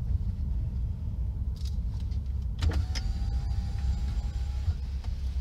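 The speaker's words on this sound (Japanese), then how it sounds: "カバー取ってちょっとだけ動かそうかなと思ってます" A Nissan Z34 Nismo sports car being moved a short distance, giving a steady low engine rumble with a few mechanical clicks and a thin electronic warning tone, heard nearby with no talking.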